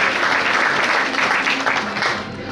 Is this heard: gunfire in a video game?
no